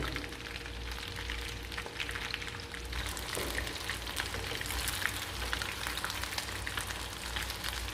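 Coconut-coated pieces of food fry in hot oil in a Caribbean kitchen, a steady crackling sizzle with popping bubbles, moderately close and continuous with no talking.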